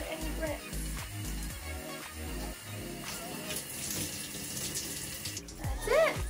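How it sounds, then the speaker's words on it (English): Running water pours steadily while shampoo is rinsed out of hair, a close, continuous splashing and trickling with some faint background music and a brief squeaky sound near the end. "so I'm gonna go ahead and rinse."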